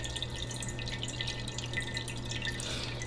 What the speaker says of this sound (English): I'm gonna pull this out so you can kind of see it's already dripping down there